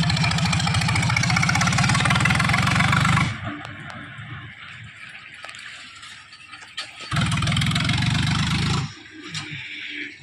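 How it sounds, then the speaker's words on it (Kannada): A 45 HP tractor engine runs close by, loud and steady, then drops to a quieter idle for several seconds before the heavy note returns and cuts off again. "ಹಾಗೆ ಹೆಂಗೆ ಕೇಳತ್ತೆ ನೋಡ್ರಿ ನಮ್ಮ ಹೋಗಿ ಗಾಡಿ"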